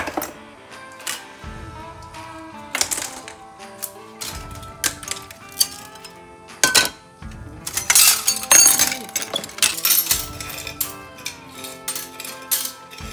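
Broken glass debris being swept up on the floor of a fire-damaged marina burned after a lightning strike, with repeated sharp clinks, scrapes and tinkling shards in irregular bursts, close and loud.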